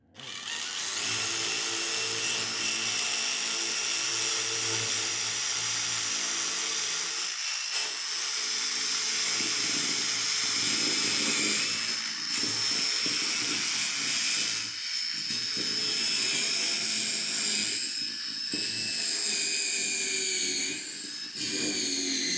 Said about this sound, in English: So get this one drilled here.